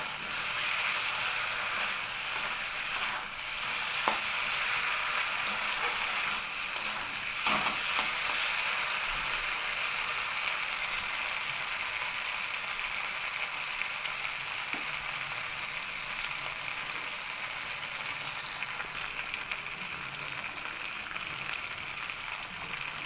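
Salt and turmeric sautéed in a pan for a thin rohu fish curry with papaya and potato, giving a continuous even sizzle at moderate loudness with faint occasional stirring.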